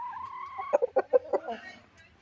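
A large desi hen at a market stall gives a short run of close, loud clucks, about five quick pulses after a brief higher call, with a faint voice nearby.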